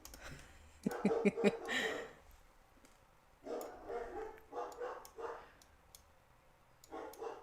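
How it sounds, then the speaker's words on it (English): Bursts of dog barking in a few separate clusters, moderately close, with quiet pauses between them and no talking. "My bad if you guys hear the dogs."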